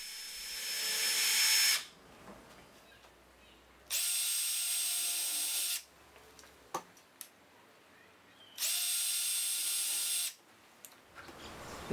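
A power drill whirs in three short, loud bursts, drilling 1.5 mm pilot holes in wooden shoji kumiko mitres, separated by quieter pauses with small clicks and handling knocks.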